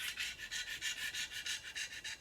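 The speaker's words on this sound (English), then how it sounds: "Take these stickers off" Faint, rhythmic rubbing or scraping as stickers are peeled off new brake rotors for a 4Runner rear brake job, about a dozen quick strokes in steady succession, close and quiet with no talk.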